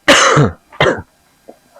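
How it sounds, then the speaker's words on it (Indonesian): Two loud, harsh coughs in quick succession, close by, followed by a couple of faint short sounds. "Kenapa Anda ini pura-pura batuk?"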